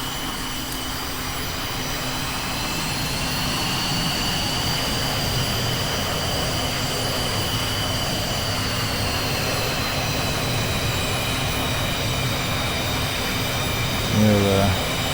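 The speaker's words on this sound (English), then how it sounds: "Let's start this engine up." An F-35's jet engine spools up in VTOL VR, a steady rising whine and roar that builds and holds loud throughout, with brief sounds near the end.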